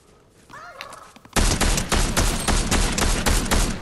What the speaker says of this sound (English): I'm shooting a llama